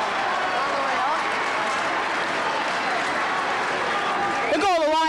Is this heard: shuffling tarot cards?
no